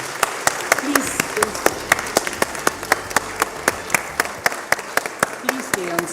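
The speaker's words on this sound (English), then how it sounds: "a round of applause" Applause rings out at a women's leadership summit in Bengaluru, with crisp, evenly spaced claps standing out over a softer crowd, and some voices audible underneath.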